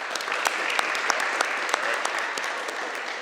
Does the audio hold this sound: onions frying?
no